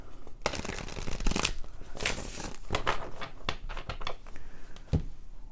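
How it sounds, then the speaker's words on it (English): Soul Cards Tarot cards are shuffled by hand up close, giving a run of crisp riffles and soft slaps in an irregular rhythm with no talking. "Let me just shuffle this one more time"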